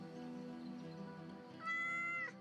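A cat in the video game Yes, your Grace gives a single short, clear meow near the end, preceded by a soft musical background.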